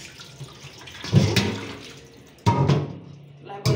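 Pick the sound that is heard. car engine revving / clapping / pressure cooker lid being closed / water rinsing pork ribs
water rinsing pork ribs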